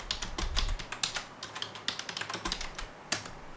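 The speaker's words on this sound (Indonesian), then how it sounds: "Satu yang sedikit mengganggu adalah suara dari keyboard ini ketika digunakan." Typing on a Logitech K480 wireless keyboard, a quick irregular run of close, clicky keystrokes with a few heavier taps, heard alone.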